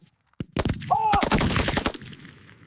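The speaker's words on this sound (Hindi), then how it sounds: "जवाबी फायर करो।" Gunfire in an army drama scene: a single shot, then a quick burst, then sustained rapid automatic fire for about a second, loud and close, with a shouted voice partly buried in the shooting.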